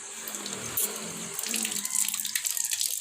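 A tap runs into a gallon jug, the water's hiss shifting and rising in pitch as the jug fills, close and fairly quiet.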